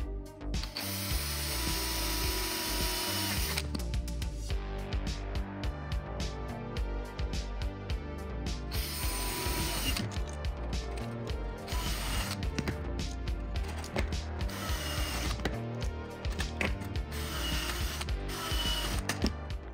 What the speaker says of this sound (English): I need to come in here and match drill these holes through the doubler into the